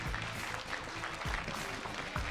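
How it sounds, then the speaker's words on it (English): A crowd claps steadily for a couple of seconds at a motorsport awards event, a dense, even round of applause at moderate distance with no talking. "a big round of applause for Mr. Jaja Ishibashi."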